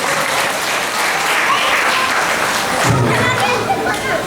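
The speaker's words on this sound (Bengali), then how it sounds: "শেষ একবার ওদের জন্য হাততালি চেয়ে নেব" Loud, dense audience applause for the two hosts at the close of a cultural festival stage show, a steady wash of clapping with faint voices and a soft thump near the end.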